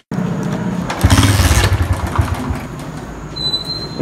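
A motorcycle engine starts up and revs once loudly, then settles into a rough idle with some clanking mechanical noise, heard close and without talking.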